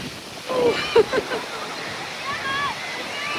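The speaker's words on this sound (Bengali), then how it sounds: "দেখুন কি পরিমাণ ঢেউ আসছে সমুদ্রে" Sea waves washing in at Ostende beach, Belgium, a steady airy surge under a voice talking in bursts, with the water wash continuing moderately loud throughout.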